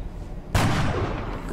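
A single sharp gunshot in the XCOM Long War video game cracks out about halfway through and leaves a booming tail that fades slowly over a low background.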